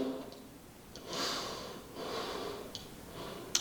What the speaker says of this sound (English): Just a few deep breaths